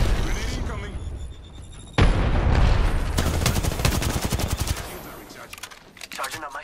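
Heavy automatic gunfire rattles in rapid bursts in a shooter video game, with a sudden loud grenade blast partway through and more shots trailing off, while voices talk over the combat.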